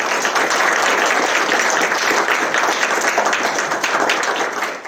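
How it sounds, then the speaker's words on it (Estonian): An audience at a school graduation reception for ninth-grade classes applauds in a dense, steady burst of clapping that fills the room and fades slightly at the end. "Teeme aplausi Niilile."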